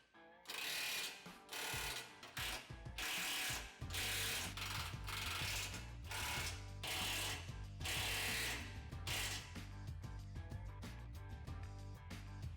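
A ratchet tightens the bolts on a differential skid plate during a 6-inch lift kit install on a 2004-2008 Ford F-150 4WD, giving close, loud, rapid clicking in repeated bursts with no talking.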